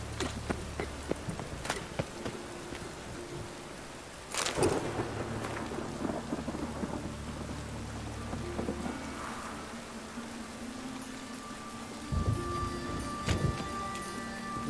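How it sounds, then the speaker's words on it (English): A thunderstorm with rain in the video game The Witcher 3, with steady rainfall hissing throughout, a sharp close thunder crack partway through and another rumble later, and no speech. "A storm, damn it."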